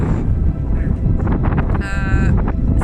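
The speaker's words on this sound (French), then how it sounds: "il y a du vent, il y a énormément de vent, bien plus que prévu." Strong wind buffets the microphone outdoors in a nature reserve, a loud, constant roar with gusty swells, and a brief whistling tone cuts through near the end.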